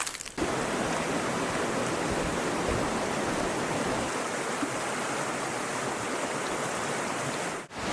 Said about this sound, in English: we're hiking right along the river the whole way, and the falls are visible right off the trail